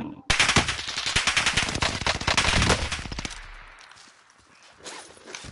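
Rapid video game gunfire on the Caldera map, dense bursts of automatic shots rattling loudly for nearly three seconds before tapering off into quieter scattered noise.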